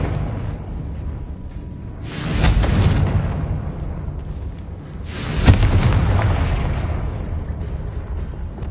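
Two heavy magical blasts from the Confringo fire spell in the Hogwarts Legacy video game, each a loud booming burst that swells and then rumbles away, separated by a few seconds of low ambient hum.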